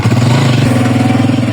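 A motorcycle engine runs close by, a loud, steady low throbbing putter with a faint rattle through the short stretch.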